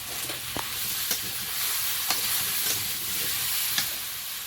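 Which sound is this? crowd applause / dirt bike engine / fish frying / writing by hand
fish frying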